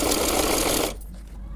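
A sewing machine runs steadily, stitching fabric for a salwar suit, loud and close for most of a second, then cuts off into quiet room noise.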